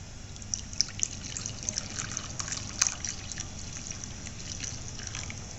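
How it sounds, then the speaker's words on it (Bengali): Warm milk is poured into a bowl, making a steady trickling stream with a few sharper drips and splashes, close and moderately quiet, with no talking. "এখন আমি দুধটা বাটিতে ঢেলে দেব।"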